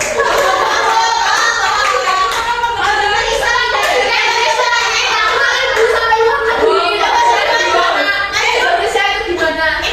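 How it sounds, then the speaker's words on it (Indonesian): Children in a sixth-grade classroom clap together for a classmate, a brisk, fairly loud patter of hands lasting several seconds, with young voices and a teacher speaking over it. "Oh, kita beri tepuk tangan yang teman-teman."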